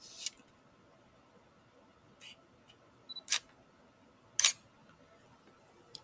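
A camera shutter set to a one-second exposure gives a sharp click, then after a pause a second click as it closes, with a faint mechanical tick earlier, all close in a quiet room.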